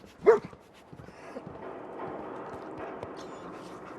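Dogmeat, the dog companion in Fallout 4, gives a single short bark near the start, followed by quieter game ambience with faint footsteps and movement.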